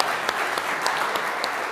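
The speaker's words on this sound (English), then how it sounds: "Give a round of applause for Ashton." An audience applauds a speaker at a company team meeting, a steady wash of clapping with a few whoops, close and continuous.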